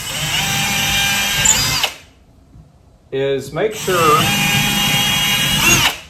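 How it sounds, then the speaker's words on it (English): A power drill whines loudly in two bursts while drilling holes into a wall, stopping for about a second between them while someone speaks briefly, then revving up again. "we're going to go ahead and get our holes drilled here"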